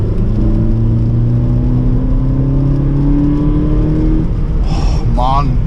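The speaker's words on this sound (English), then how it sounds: "let's hit the M60 and have some good revving action" A Suzuki Swift Sport fitted with a RamAir intake revs hard on a motorway, the engine note rising steadily under a loud in-cabin whir, then a shift and fresh climb near the end; people talk in the car.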